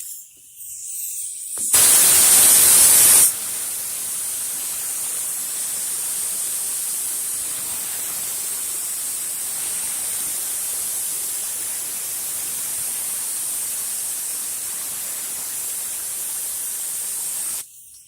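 A paint spray gun lays primer onto a car panel in a steady, loud hissing spray that runs nearly continuously for about sixteen seconds after a brief louder burst at the start.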